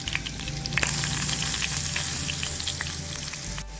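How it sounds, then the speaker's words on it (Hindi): Chopped onions with ginger and garlic frying in hot ghee for dhaba-style masala bhindi give a steady, close sizzle with occasional stirring, heard alone. "2 कप हमने प्याज लिए, उसे हमने कट कर लिया, इसमें ऐड करेंगे और इसको हम फ्राई कर लेंगे"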